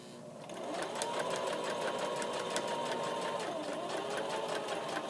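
A sewing machine reverse stitching a pant pocket, running in a fast, steady mechanical chatter of needle strokes that starts after a brief quiet moment and continues evenly to the end.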